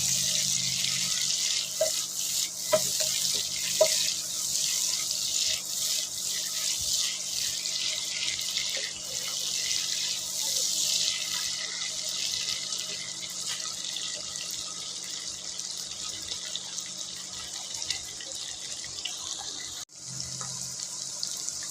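Half a cup of chopped onions frying with shrimp in a pan gives a steady, close hiss of sizzling oil that runs without a break, with a few faint clicks of stirring.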